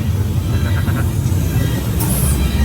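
A studio tour tram rumbles along in a steady, loud, low roar with faint rattling and a brief high squeal near the end; no voices are heard.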